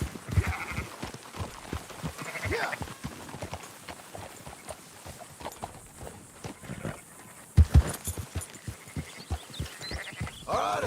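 Sheep in the video game Red Dead Redemption 2: a busy stretch of hoof clatter and shuffling with scattered bleats, irregular rhythmic thuds across the clip and a brief quieter moment near the middle.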